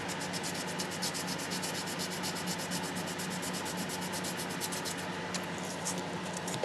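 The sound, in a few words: sandpaper cleaning a model railway rail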